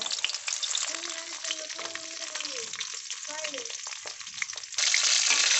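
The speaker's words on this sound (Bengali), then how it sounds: "এপিট ওপিট পটলগুলোকে একটু লাল লাল করে ভেজে নেব" Pointed gourds (potol) fry in oil in a pan with a close, steady crackling sizzle, a few tonal scraping squeaks in the middle, and the hiss growing louder in the last second.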